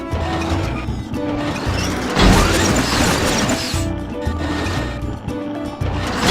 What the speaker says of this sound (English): Change to box form to charge into B&L crates.